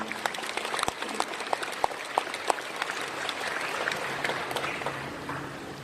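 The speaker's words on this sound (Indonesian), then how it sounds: "Tepuk tangan buat Indonesia" An audience at an Indonesian religious lecture claps steadily, a sustained wash of applause with sharp individual claps standing out, fairly close and continuous with no talking.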